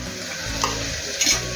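Ginger garlic paste frying in hot tempering oil for a Sode Bhaat, a steady close sizzle with stirring scrapes and two brief louder bursts, no talking.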